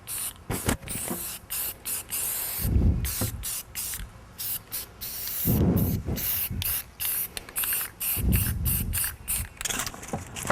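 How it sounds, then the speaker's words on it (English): Gray automotive primer sprayed from an aerosol can into the grooves of a door: repeated short hissing bursts of varying length, close and fairly loud, separated by brief pauses. "Gray automotive primer is all I use"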